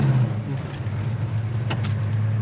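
A 1969 Chevelle SS V8 engine drones steadily and loud under acceleration on the road, a deep constant rumble filling the whole stretch with no pause.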